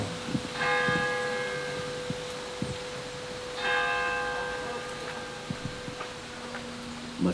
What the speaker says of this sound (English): I'll wait for the bell.